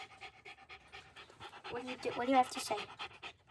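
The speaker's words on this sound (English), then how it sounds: "Yep, we're trapped in a dog kennel." A dog pants with quick, breathy rhythm while shut in a kennel, close by and mixed under a person talking.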